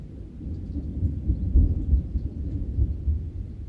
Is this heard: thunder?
yes